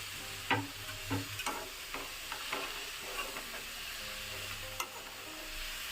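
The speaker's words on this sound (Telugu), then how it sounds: "దీన్ని కూడా బాగా కలుపుకుందాము" Methi leaves and moong dal frying in a pan are stirred, giving a soft steady sizzle with occasional scraping and clinking taps of the spoon, close and fairly quiet.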